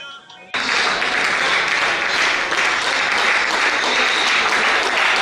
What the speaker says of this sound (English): This applause and standing ovation are show of honor to these compatriots for standing out as overall best in the quiz competition beyond the classroom.